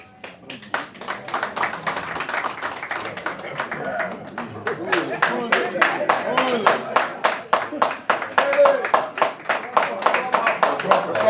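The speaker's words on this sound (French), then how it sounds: "On applaudit très très fort, s'il vous plaît." Applause at a ceremony installing a PDCI-RDA section secretary general in Massachusetts, with many sharp close hand claps growing into steady, rhythmic clapping while people talk over it.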